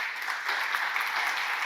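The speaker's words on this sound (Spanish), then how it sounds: "Dale palmas al Señor" Church congregation applauding together, a steady, dense wash of clapping hands filling the whole moment at even loudness, with no voices rising above it.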